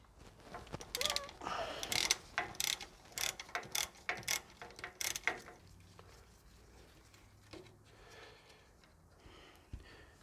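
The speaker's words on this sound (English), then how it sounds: "we take a 12mm socket on an extension, and we're just going to loosen the ABS sensor bolt on top of the housing" A ratchet with a 12mm socket on an extension loosens the ABS sensor bolt on top of a Toyota Landcruiser swivel hub housing: a run of sharp, closely spaced clicks, then quieter handling noises.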